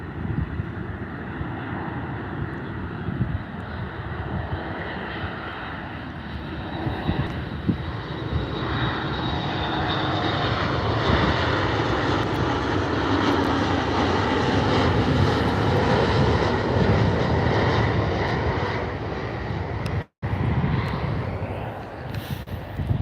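A Boeing 737 Max jet at Vancouver's YVR airport: a loud, sustained engine roar with a broad rushing rumble that swells gradually and holds, heard from a distance outdoors with some wind noise.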